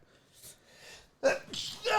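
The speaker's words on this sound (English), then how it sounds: "Had to sneeze." A single sharp sneeze near the end, preceded by a couple of quiet breathy intakes, close to the listener.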